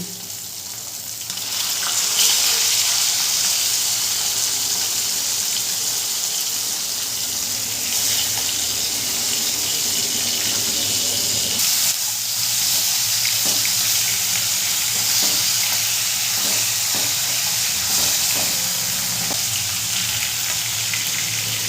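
Rohu fish pieces sizzle steadily in hot oil in a pan over a medium flame, a loud continuous crackling fry with occasional scraping as the pieces are turned.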